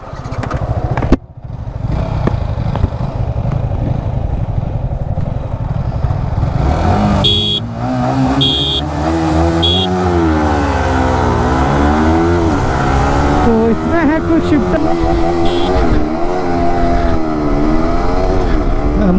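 A Yamaha R15M and an R15 V3 BS6 race each other, their engines revving hard and loud, rising and falling through gear changes with a sharp whine up close, continuing for the whole stretch.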